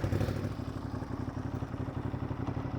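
Ducati Monster motorcycle exhaust while riding, a steady low throbbing engine note with mechanical clatter, close and continuous throughout.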